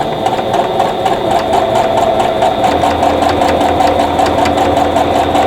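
A sewing machine runs steadily, stitching down a quilt block for a Buckeye Beauty stash buster pattern, its rapid even needle clatter close and continuous with no voices.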